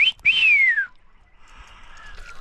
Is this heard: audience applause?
no